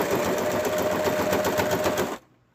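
A sewing machine runs steadily while stitching a plush toy, a close, continuous mechanical whir with fast even needle strokes that stops abruptly near the end.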